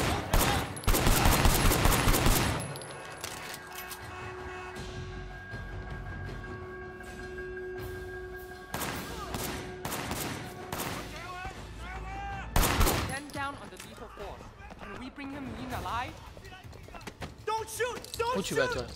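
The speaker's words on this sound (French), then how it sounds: "I have no idea how many bullets I fired." Gunfire erupts in the Sleeping Dogs video game, a dense burst of loud shots at the start and another at the middle, with voices talking between and after them.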